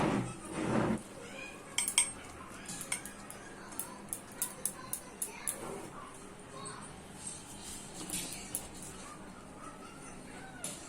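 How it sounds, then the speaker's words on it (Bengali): Clattering metal cookware with a series of light clinks and knocks as boiled banana flower is poured out, a brief burst of splashing at the start, and faint background noise throughout. "এই যে এবার আমি মোচাটাকে ঢেলে নেব।"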